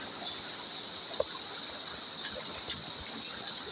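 Chest-deep flood water flows outside a house at night, a soft steady rushing hiss with no voices.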